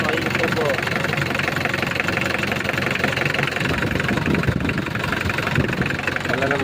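A Mitsubishi Delica 4x4 turbo diesel engine runs steadily and loudly up close with a rough, knocking idle, while people talk over it.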